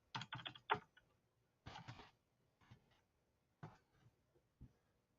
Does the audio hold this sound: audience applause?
no